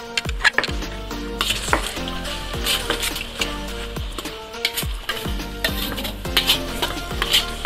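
Garlic frying in a pan for an Indonesian chicken dish, a steady bright sizzle with repeated metallic scrapes and taps of a utensil stirring against the pan.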